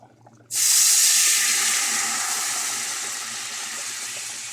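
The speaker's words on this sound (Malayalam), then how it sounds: "അപ്പം നമ്മൾ വെള്ളം ഒഴിക്കാം" Water poured into a pot of simmering camel curry sets off a sudden loud hiss that swells and then fades slowly as steam and sizzling settle, close and without talk.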